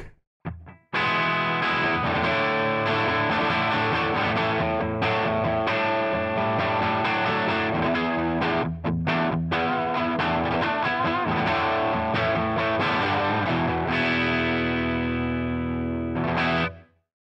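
Electric guitar played through a Marshall JVM4 Series amp breaking up with added gain, thick crunchy distorted chords ringing out loudly with a few brief pauses and no talking.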